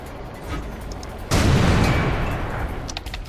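A single heavy tank cannon blast booms out in World of Tanks, a sudden loud shot midway through that rolls off into a long decaying rumble over a quieter engine background.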